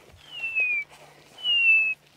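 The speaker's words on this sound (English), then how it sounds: "That's the grey hornbill. He's the one making that lovely whistling sound." A grey hornbill gives two clear, drawn-out descending whistles a moment apart, fairly close and loud against a quiet background at sunset in the Sabi Sand reserve.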